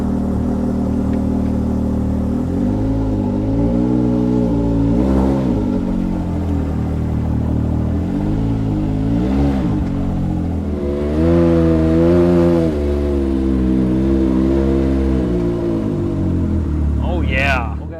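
A Can-Am Maverick X3 side-by-side engine revs repeatedly up close, pitch climbing and falling in several throttle bursts over a loud, continuous idle.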